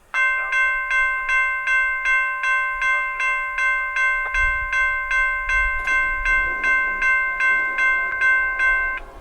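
A crossing bell dings in a steady, rapid rhythm while the deep rumble and rattle of northbound freight train Q606 rises underneath and rolls past.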